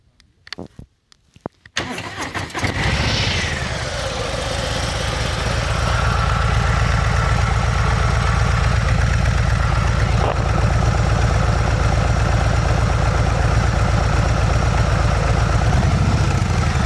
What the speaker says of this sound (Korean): 한번 할리 스트리트밥 114 배기음 한번 들려보겠습니다.